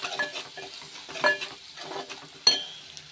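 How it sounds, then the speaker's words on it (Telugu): Turmeric and freshly pounded ginger get stirred into fish, a spoon scraping and clinking against the pan in a handful of separate strokes over a faint sizzle, with one sharper knock near the end. "అల్లం వేసేసుకొని కూడా కలిపేసుకోవాలి నీట్గా."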